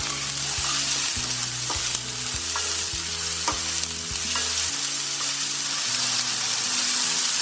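Capsicum and peas stir-fried for Indo-Chinese vegetable fried rice, with a steady loud sizzle and repeated scraping stirs of the spatula against the pan, no voices.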